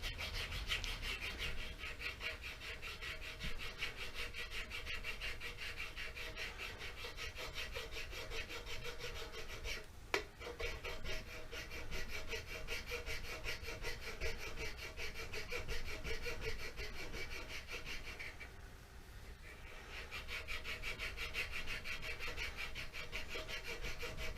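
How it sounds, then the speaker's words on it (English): A fine metal file rasps steadily over a silver inlay set in aspen wood, continuous close scraping strokes with a brief pause near the middle and no talking. "I'm going to take it down first with a fine file"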